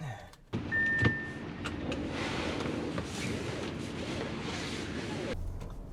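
Audi Q5 quattro SUV driving, a steady muffled engine and road hum heard from inside the cabin, with a short whine early on, continuing evenly throughout.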